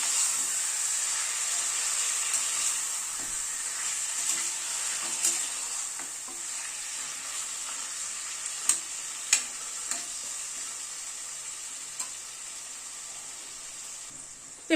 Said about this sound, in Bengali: মাটনটাকে মশলার সাথে মিশিয়ে দিচ্ছি।